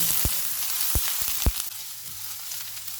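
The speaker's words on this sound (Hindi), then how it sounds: "ऑयल गर्म हो गया, इसमें एक प्याज डालेंगे।" Onion sizzles steadily in hot oil over low-to-medium heat, with a few sharp clicks and taps of a utensil, close by, no talking.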